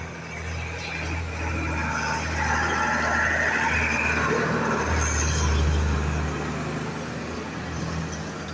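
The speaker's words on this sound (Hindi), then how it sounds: "और गाड़ी आ चुकी है।" A gravel-laden truck arriving and manoeuvring into place, its steady low engine rumble continuous and fairly close, with faint hissing air and passing road noise layered on top.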